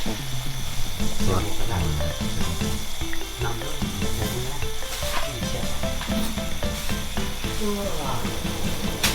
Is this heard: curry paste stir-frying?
yes